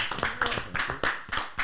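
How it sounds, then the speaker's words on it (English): A small audience applauds Joe with sparse, uneven claps in close, sharp bursts a few tenths of a second apart, fairly near and moderately loud. "Let's give Joe a round of applause."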